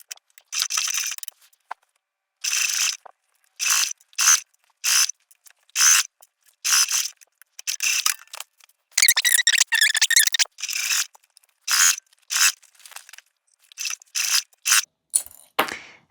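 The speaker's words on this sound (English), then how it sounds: "let's go over to the sewing machine and get these sewn up" A sewing machine stitches bias tape on a fabric makeup bag in short start-stop bursts, a rapid mechanical clatter with brief pauses between runs. No voices.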